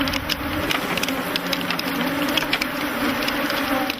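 Several million bees swarm around beekeepers working hives in Africa, a continuous droning hum with scattered nearer buzzes passing by at moderate volume.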